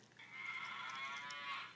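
A cow moos once in a drawn-out, even call from a children's animal app on a tablet, clear and close with no other sound.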